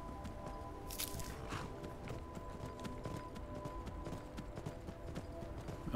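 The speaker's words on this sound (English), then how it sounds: "Whose horse is that running off?" Hooves of a horse clip-clop steadily as it runs off in the game Skyrim, a fairly quiet, continuous patter of footfalls heard alone over a low ambient hum.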